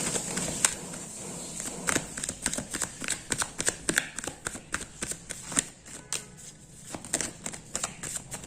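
Tarot cards are shuffled close up, with a run of quick crisp riffling snaps and soft card slaps at an uneven rhythm against a quiet background.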